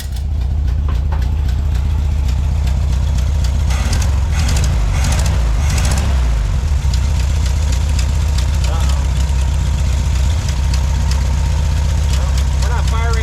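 A classic VW Beetle engine idles roughly and misfires, missing on a couple of cylinders, with a steady loud low rumble and uneven knocking pulses, close by and continuous throughout.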